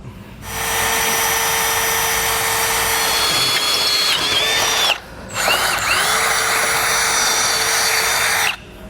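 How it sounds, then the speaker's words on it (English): Loud, close power drill running at high speed for several seconds while drilling holes for a vehicle base plate, briefly pausing, then whirring again steadily until it cuts off. "So I'm going to go ahead and get these drilled out."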